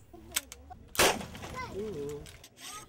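A single sharp high-calibre gunshot cracks out during test firing, followed by voices and a ringing tail; lighter clicks come before it.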